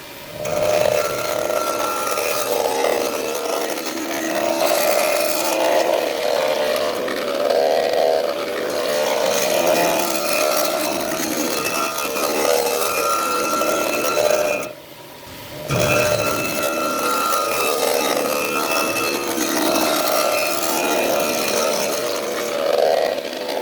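A machine cutter resurfaces a small-block Chevy double hump cylinder head, shaving off eight thousandths. It makes a loud, steady grinding whir with a faint ringing tone, drops briefly near the end, then resumes.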